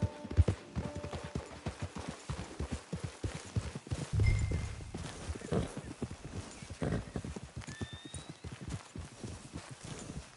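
Horse hooves clip-clop in a steady walking rhythm in a PS4 video game, close and continuous for about ten seconds, with game voices talking over them.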